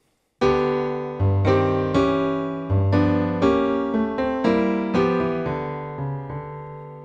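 A piano plays an even, straight rhythm of evenly spaced notes and chords, clear and close, each note decaying before the next, with no voices.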